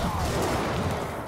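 A quick cluster of gunfire bursts in the video game Middle-earth: Shadow of War, dense and punchy, with a continuous rumbling backdrop and no pauses over the brief moment.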